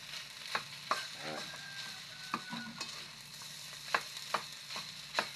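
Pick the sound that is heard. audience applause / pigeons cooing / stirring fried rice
stirring fried rice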